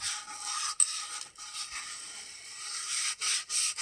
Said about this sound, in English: this is 120 grit, and smooth all these edges out really nice